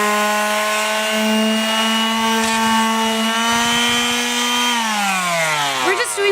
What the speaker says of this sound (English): we're actually taking a sander and we're going to sand down